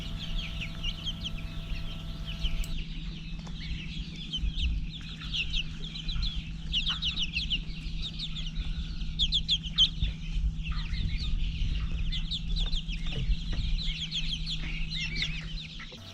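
A buff Orpington rooster and a golden comet hen, four-week-old birds kept in a garage, cluck softly and repeatedly over a low steady hum, with other chicks chirping throughout.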